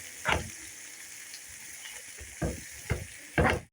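Tomatoes go into a hot pan and sizzle loudly, with a few distinct bursts of hissing and spatter over a low, steady frying background.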